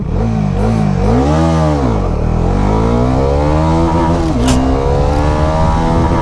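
A Bajaj Dominar 400 (349cc) motorcycle in sport mode accelerates hard close by, its engine note sweeping up and down through repeated rising revs and gear shifts, loud and alone.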